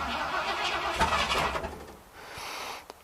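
A 1974 Ford F350 truck engine cold-starting nearby, a brief rough crank-and-catch that settles into a low rumble.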